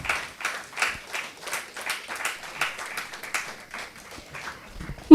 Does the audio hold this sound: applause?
yes